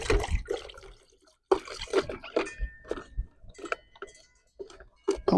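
Water splashes and sloshes in irregular bursts while bird feeders are washed out, with occasional clinks of the feeders and brief quiet gaps between the close, uneven rinsing sounds.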